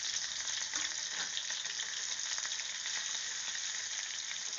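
Garlic, ginger and green chillies frying with mustard seeds in hot oil for beetroot pickle, a steady close sizzle with faint stirring, no voices.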